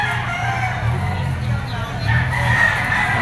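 A white gold yellow-legged bull stag rooster crows at a busy auction market, its call rising over steady crowd murmur and nearby talk.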